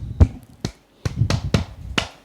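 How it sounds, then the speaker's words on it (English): A young girl claps for herself after a reading, six separate sharp claps spaced unevenly over about two seconds, fairly close and dry, with no talking. "Yes, clap for yourself."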